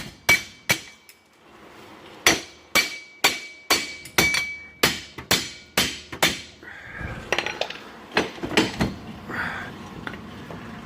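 Sharp metallic hammer blows knocking rear wheel bearings off a 2003 Yamaha Kodiak ATV, a dozen loud close strikes in a steady rhythm, pausing and then resuming more irregularly.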